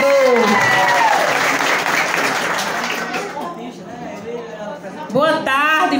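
A dense crowd applauds loudly for a councilman at an outdoor gathering in Serra Talhada, the clapping thinning toward the end as a voice speaks over it.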